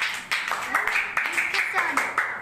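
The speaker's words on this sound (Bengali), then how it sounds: "জোরে হাততালি" Children at a Teachers' Day drawing class celebration clap in a quick series of sharp, close claps, with voices talking over them.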